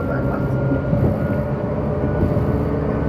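Inside a JR 185 series train on the move, a loud, steady low rumble of wheels and motors rolls on with rhythmic rail clatter throughout.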